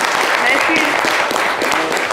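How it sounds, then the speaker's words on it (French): Applause from a small group at a live radio or studio show, brief steady clapping heard close with a voice speaking over it. "Applaudissements pour elle, s'il vous plaît."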